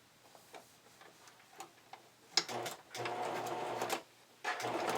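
Sewing machine running a zigzag stitch to attach elastic to fabric, starting at a side seam: quiet ticks at first, then short bursts of mechanical whirring separated by brief pauses.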